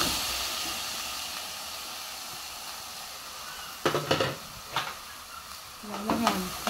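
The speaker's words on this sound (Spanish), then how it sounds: "Lo que vamos a hacer ahorita es sofreír nuestro pollo y le vamos a agregar la papa para que se sancoche ahí mismo." Chicken and potato sautéing with chili and onion in a pan for Salvadoran chicken and potato pastelitos, a continuous hissing sizzle, then sharper scraping and clattering stir strokes near the end, close up with no voices.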